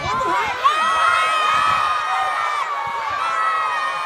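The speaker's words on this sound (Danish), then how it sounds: "I må råbe noget højere." Scout children shouting loudly in unison, a sustained chorus of high young voices yelling together, close and energetic for several seconds.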